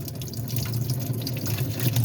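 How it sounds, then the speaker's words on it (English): Water runs steadily from a lavatory sink drain during installation of a One Touch drain assembly, a continuous close trickle and splash with no talk. "there is some water coming out of there."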